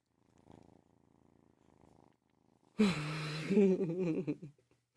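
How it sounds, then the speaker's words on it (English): A small kitten that came in from the woods purrs softly at first, then louder close by, a rough rhythmic rumble in quiet surroundings. "She's a little kitty that just came out of the woods too."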